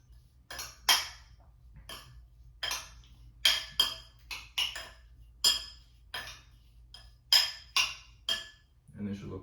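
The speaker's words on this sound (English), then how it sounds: "Take a spoon, stir, make sure they're evenly coated." Spoon clinking repeatedly against a bowl while stirring shrimp with chili powder, a quick irregular series of sharp metallic ticks, close and fairly loud, with no talking.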